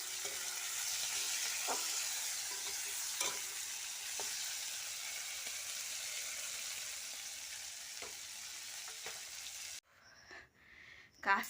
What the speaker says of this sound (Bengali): আমি এবারে গ্যাসের কাছে এসে চিংড়ি মাছটা ভেজে রাখছি